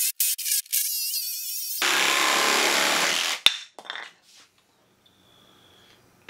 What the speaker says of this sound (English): maybe you're not supposed to use a jigsaw to cut a 2x4